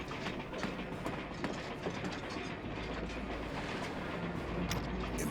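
Train engine in the Wild West zombie tactics game Hard West 2, a continuous rolling rumble with rhythmic clickety-clack of wheels and metallic rattling, steady and moderately loud with no talk.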